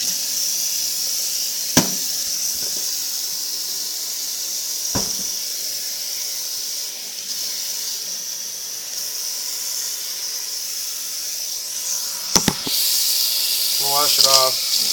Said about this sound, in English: Make sure that you get the inside.